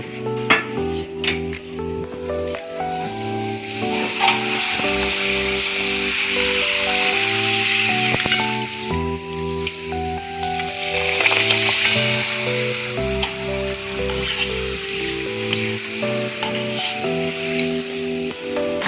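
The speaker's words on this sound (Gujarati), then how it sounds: "હવે આમાં આપણે પાપડને પણ તળી લઈશું।" Papad and roti fry in hot oil in a pan, giving a steady sizzle and bubbling throughout, with music playing loudly over it.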